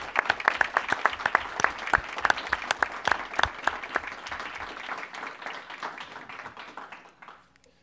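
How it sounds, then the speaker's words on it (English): An audience applauds at a school board meeting, a dense burst of many hands clapping with crisp individual claps, loud at first and then thinning out and fading to quiet near the end. "So one more round of applause for all of you and thank you."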